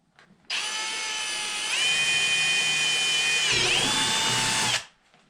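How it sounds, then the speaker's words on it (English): A power drill whines steadily for several seconds, its pitch dipping as a 5/16-inch bit bites in, drilling a hole in a Kubota BX tractor cab for lights, then spins down to quiet. "first hole I'm going to drill is my 5/16 hole"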